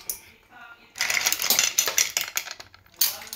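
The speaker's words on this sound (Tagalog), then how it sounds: "Tapos, ilagay natin yung clams sa ibabaw." Clams set one by one on top of a Portuguese caldeirada fish stew in a pot, clinking against shells and the pot in a rapid, close clatter with several sharp bursts over a faint quiet start.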